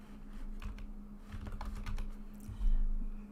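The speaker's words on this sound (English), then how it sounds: "let's type it out" A computer keyboard being typed on, a steady patter of close, soft key clicks over a low electrical hum, ending in a heavier thud or two.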